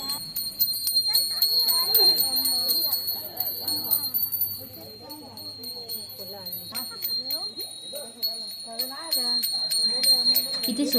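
Temple bells ring in a steady, bright metallic peal during Gauri festival worship in a Konkan home. People talk over the ringing throughout.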